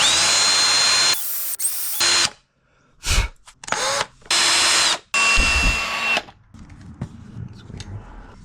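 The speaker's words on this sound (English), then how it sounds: "No, I'm gonna have to drill it." A power drill runs in several loud bursts of varying length, stopping and starting, while bleeding the brakes of a Honda CR-V during a brake fluid flush, with brief quieter handling sounds between bursts.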